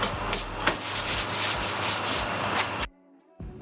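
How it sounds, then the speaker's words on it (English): Steady, coarse abrasive rasping of 80-grit sandpaper scrubbing a car's rear quarter panel, continuous and close, then stopping abruptly into near silence. "sanding this quarter with 80 grit just to knock down as much of the surface as I could"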